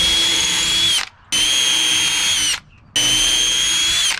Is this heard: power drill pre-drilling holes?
yes